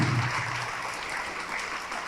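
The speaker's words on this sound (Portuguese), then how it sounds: "Vamos aplaudir ao nome de Jesus." A church congregation applauding at a televised service, a brief wash of steady clapping with a low voice fading at the start.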